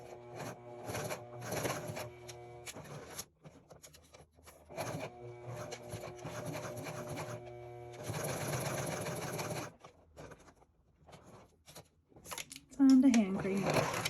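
A sewing machine stitches a wristlet in several rapid runs of close mechanical chatter, broken by pauses with quiet handling sounds and a brief voice near the end.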